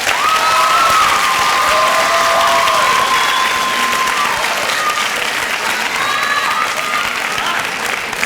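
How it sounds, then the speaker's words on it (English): A graduation audience at Claremont Academy applauds the faculty, dense sustained clapping from a large crowd filling the hall, steady and loud, with a few faint voices and cheers mixed in. "Please join me in giving this fabulous group of faculty a round of applause."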